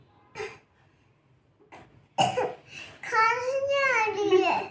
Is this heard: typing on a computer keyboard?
no